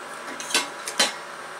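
Oat bread dough goes into a hot casserole pot, giving two distinct clanks of metal cookware close up, the second slightly louder, over a quiet background.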